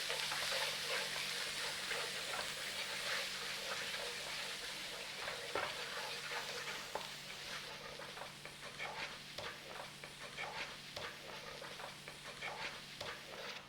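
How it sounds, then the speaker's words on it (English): Onion paste and spices for a beef keema curry sizzle steadily in a hot pan, with a spoon scraping and stirring through the frying mixture. The sizzle is continuous and close, and no one speaks. "Give that a little stir around in there."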